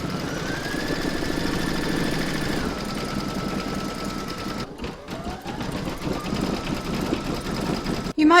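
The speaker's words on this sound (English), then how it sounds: "Next you're going to stitch round number 5, and that's going to do the satin stitching around the edges." A sewing machine runs continuously at a steady speed while satin-stitching around the edges of a T Rex applique, with a brief pause near the end before the stitching resumes.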